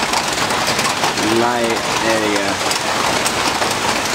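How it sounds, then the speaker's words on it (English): Rain falling steadily at night during Hurricane Irene, a constant dense hiss outdoors, with someone speaking briefly over it. "Good amount of rain."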